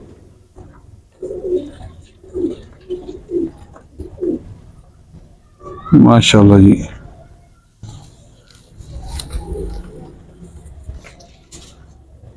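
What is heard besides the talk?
pigeons cooing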